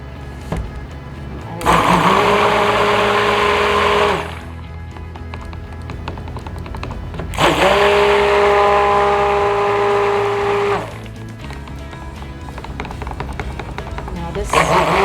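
A blender or mixer whirs loudly through pumpkin spice goat milk soap batter in two sustained bursts, with a quieter motor hum and a voice in between.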